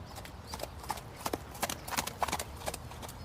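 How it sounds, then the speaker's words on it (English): A horse trotting on a sidewalk in Phoenix, a quiet run of hoof clip-clops in uneven rhythm over steady background noise, moderately distant. "every once in a while, you can see someone taking their horse out for a trot on the sidewalk"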